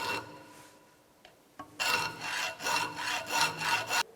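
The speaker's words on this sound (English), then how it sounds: "take your blade or your hacksaw, make a test." A hacksaw cuts with strokes in the forward direction, starting with a few light scrapes, then settling into a run of loud, steady rasping back-and-forth strokes heard up close with no talk.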